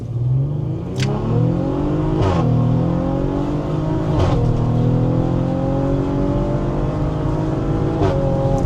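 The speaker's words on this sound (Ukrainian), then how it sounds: "Три передачі відкрутили 130 розігналися" A Stage 2 tuned Audi SQ5 accelerates hard through three gears up to 130 km/h, its loud, close engine note climbing steadily in pitch with brief dips at each upshift and no talk.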